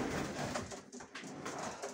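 Homing pigeons cooing softly inside a loft during cleaning, a faint low murmur over steady background noise.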